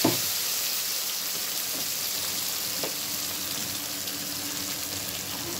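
Dry red chillies and cumin seeds crackle and sizzle steadily in hot oil, a continuous close frying hiss with a sharper pop at the start, heard alone without talk.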